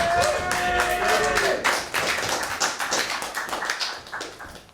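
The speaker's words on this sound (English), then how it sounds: "Start stamping the feet. Clapping the hands, go out crazy for Mr. Rob Butler!" A live comedy club crowd claps hard and stamps their feet in a dense, loud, steady rhythm that carries on throughout, with a brief tonal whine near the start.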